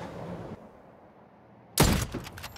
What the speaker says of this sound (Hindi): और एक नीचे से गोली चला रहा।